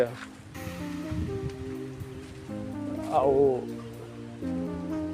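Steady heavy rain hisses throughout beneath music and a voice, with a brief louder swell partway through.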